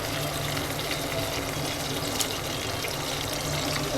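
Water pours steadily into a pot of marinated chicken and half-fried onion, a continuous close splashing fill with a low hum beneath and no voices.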